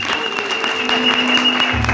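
A church youth congregation claps for the treasurer, dense continuous applause from many hands filling the room, loud and steady, with a faint hum running underneath.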